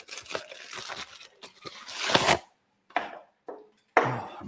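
A person chomps on food close to the microphone, with a run of crunchy, wet bites and chews that thin into a few isolated munches and pauses, and no talking.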